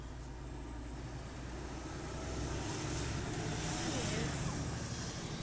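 A truck passes near a house in a forest, a broad distant rumble that swells louder midway as it draws closer, with a faint hiss over the top.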